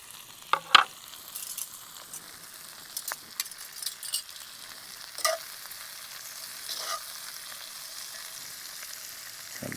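Peppers and onions sizzle softly in a skillet at a camp cooking spot, a faint steady hiss broken by a few clinks and stirring knocks, without any talking.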